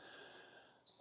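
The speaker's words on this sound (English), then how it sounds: "It does beep at you twice to let you know that it's done brewing." A Mueller U-700 single-serve K-Cup coffee maker signals the end of brewing with a clean electronic beep, starting near the end of a quiet moment over a faint background hiss.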